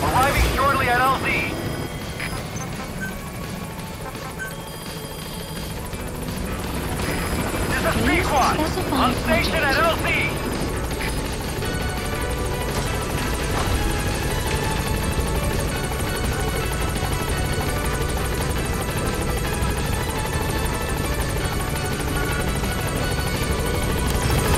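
The B-Quad support helicopter in Metal Gear Solid V arrives at the landing zone with a steady, loud rotor drone lasting throughout, while radio voices talk over it.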